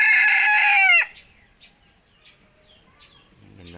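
A bantam crossed with a wild junglefowl crows once, loud and close, for about a second, followed by quieter scattered clucks and a soft low call near the end.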